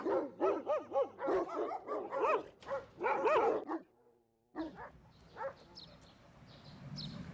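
Dogs bark at an animal shelter in Beijing, a run of loud, close barks and yips for several seconds, then a brief pause before scattered quieter barks and whimpers return over kennel noise.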